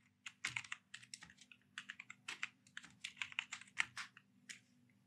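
Someone types into a web browser on a computer keyboard, making quick irregular bursts of crisp key clicks, close and fairly quiet, with short pauses between groups of keystrokes and no speech.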